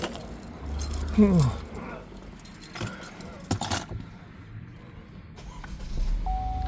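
Car keys jangle close up in a short metallic burst beside a car during a windshield wiper blade replacement, followed by scattered clinks and handling noises.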